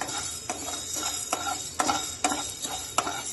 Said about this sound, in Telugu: నెక్స్ట్ మిరియాలు. కొంచెం ఫ్రై చేసుకుందాం.